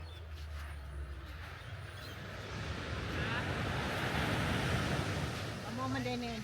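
Surf rolls in steadily on an Australian beach with strong currents, a broad wash of breaking waves and wind buffeting the microphone, building slightly louder over the stretch with no one talking.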